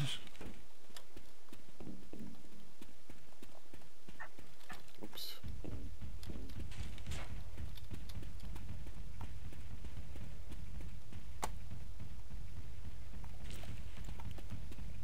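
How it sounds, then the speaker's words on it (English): Heavy stomping footsteps of a Tank in the Left 4 Dead 2 video game, a dense rhythmic pounding that grows louder partway through and continues steadily among game noise. "I hear stomping."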